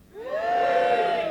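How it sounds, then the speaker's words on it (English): A comedy club crowd lets out a short cheer, rising quickly into a sustained mix of voices and whoops for about a second. "Give me a cheer if you're older than 30."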